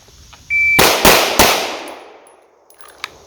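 Pistol shots at a shooting range during recoil practice, three sharp reports in quick succession, each followed by a ringing decay, then a faint click near the end.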